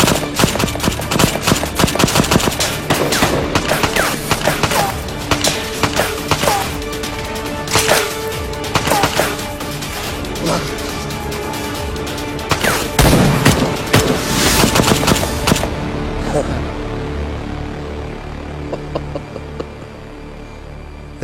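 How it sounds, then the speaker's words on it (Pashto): Gunfire in a battle scene from a drama series: dense, continuous volleys of loud cracking shots with heavy booms for about fifteen seconds, then thinning to scattered, softer shots. "ټول ختم کړئ ډزې وکئ"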